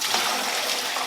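Chicken-feet bone broth pours in a steady, splashing stream into a metal bowl, close up, with no talking.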